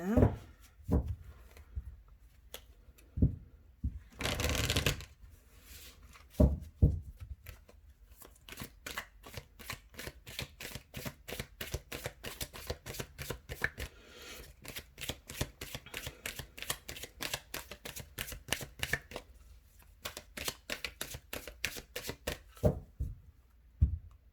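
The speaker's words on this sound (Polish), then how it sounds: "Przetasują tylko karty anielskie." A deck of angel cards shuffled for a tarot reading: a few soft handling knocks, then a long run of rapid crisp riffling card flicks, close and fairly quiet, with no talking.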